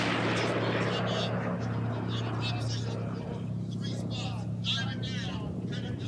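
Unlimited-class race planes lapping at the Reno Air Races, a loud continuous engine drone under steady commentary from an announcer.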